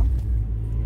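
Low, steady engine rumble and road noise inside a moving car, continuous and fairly loud in the low range for a short moment, with no clear voices.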